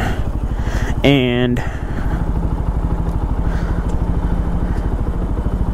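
Small Benelli TNT 135 motorcycle used as a pit bike, its single-cylinder engine idling and puttering steadily close by throughout, with someone talking over it and a brief whistling tone near the start.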